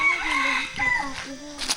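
Chickens cluck and a rooster crows in a Phu Thai village by a riverside washing and bathing spot, close and clear, the crow drawn out over steady background, with a person talking nearby.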